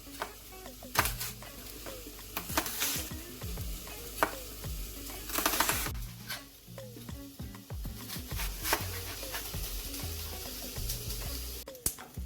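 Sliced onions fry in olive oil in a large pan while making calzone filling, a steady close sizzle broken by sharp clicks and scrapes of stirring throughout.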